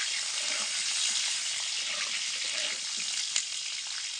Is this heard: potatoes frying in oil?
yes